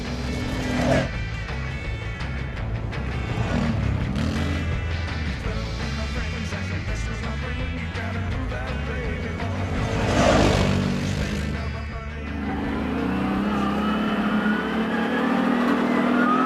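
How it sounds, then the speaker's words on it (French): The V-twin engine of a CFMOTO CForce 800S quad bike revs and pulls repeatedly as it rides close by, rising and dropping in pitch with gear changes, and wind rushes past. "Ce 800 a un moteur bicylindre en V"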